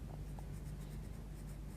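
Derwent watercolour pencil scratching lightly over paper, a soft steady rasp of repeated strokes, faint and close, heard alone.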